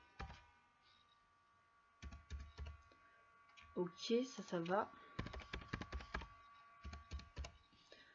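Rapid clicks of a computer keyboard as a new password is typed, coming in short bursts close to the mic, with a brief spoken exchange partway through.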